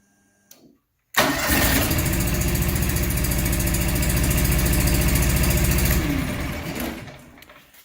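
A John Deere 445 lawn tractor engine with a swapped ignition coil cranks briefly, then fires up and runs at a steady, loud idle for several seconds before winding down. A short knock comes just before the start.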